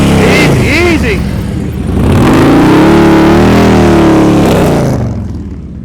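A motorcycle engine revs hard at high RPM during slow-speed riding practice, rising and falling in pitch as a loud close-up whine, fading out at the end.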